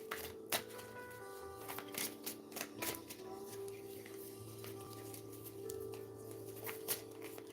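Close-up shuffling of two tarot decks together with repeated sharp riffles and snaps over a low steady hum, the bursts coming in an uneven rhythm.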